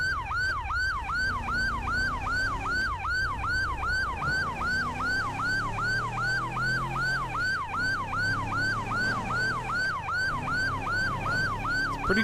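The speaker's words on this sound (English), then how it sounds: "I don't remember having this siren before." Emergency vehicle siren in the video game GTA, set in Los Santos: a rapid, regular yelping wail cycling continuously and loudly, with an engine hum and shifting vehicle tones underneath.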